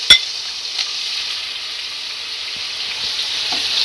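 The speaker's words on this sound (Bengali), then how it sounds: "অন্যদিকে কড়াই গরম করে তেল দিয়ে দিচ্ছি। গরম হয়ে গেছে, চিংড়ি মাছগুলোকে ভালো করে ভেজে উঠাবো।" Shrimp frying in hot oil in a wok, a steady close sizzle throughout with a sharp clatter at the start and a few faint taps later.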